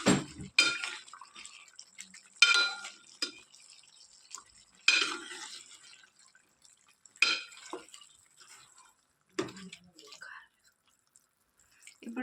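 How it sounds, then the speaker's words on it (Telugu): Chicken curry being stirred in a pan, a series of sharp spoon scrapes and clinks against the metal every second or two with quiet gaps between, close and distinct. "కర్రీని కలుపుకోవాలి."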